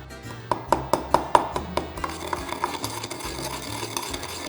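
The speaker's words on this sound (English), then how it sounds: "I've added it to my mortar and pestle, and I'm going to add a little bit of sugar in there to help me grind it up." Mastiha resin and sugar are worked in a mortar and pestle: about seven sharp, evenly spaced pounding knocks, then a continuous scraping, grinding rub. Close and moderately loud, with no talk.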